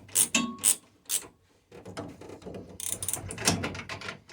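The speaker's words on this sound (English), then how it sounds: "using his new handy dandy socket ratchet set" Socket ratchet wrench being turned on a race car, sharp clustered ratcheting clicks in quick bursts, a short pause, then a denser run of clicking, close and fairly loud with no voices.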